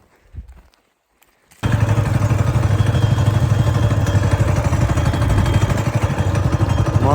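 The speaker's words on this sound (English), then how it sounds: "I'm on the mini bike, Dad's on the 4-wheeler. We're headed to another spot real quick." A mini bike and a four-wheeler ride through Idaho desert. A brief faint thump gives way to loud, steady engine drone and rattling clatter that holds close and constant to the end.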